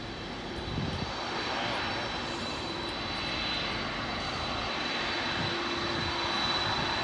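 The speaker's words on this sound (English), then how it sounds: "it's a cargo plane" A Boeing 747 Polar Air Cargo freighter landing at LAX, a loud steady roar of jet engines that fills the air throughout with no talk.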